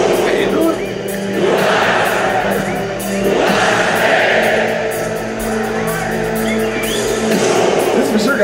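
A large stadium crowd at a Rammstein concert roars and cheers continuously, a loud dense wash of voices with swelling waves and scattered shouts.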